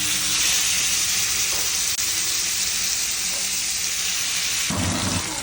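Marinated chicken sizzles loudly and steadily in a hot pan for a kebab roll, a dense continuous crackle with a heavier hiss and clatter near the end.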